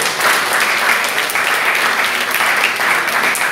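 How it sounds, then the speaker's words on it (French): A large indoor audience at a "Ma thèse en 180 secondes" thesis presentation competition applauds loudly and steadily, dense continuous clapping filling the space without pause. "je voudrais qu'on l'applaudisse encore vraiment"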